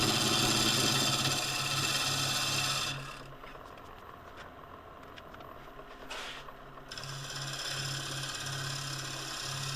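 A tool takes a shear scrape on a very dense, dry casuarina bowl spinning on a lathe, making a steady rasping hum over the motor that eases off for a few seconds and then returns.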